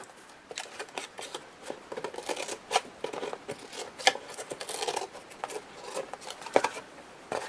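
Scissors snip through excess paper while a mini album with flaps is being made, with a run of short crisp cuts and soft paper rustles, close and fairly quiet.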